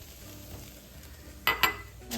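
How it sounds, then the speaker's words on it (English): Green onions dropped into a hot one-pot Mongolian beef ramen, a steady low sizzle broken by two sharp bursts of frying and a louder hiss near the end. "We're going to add our green onions."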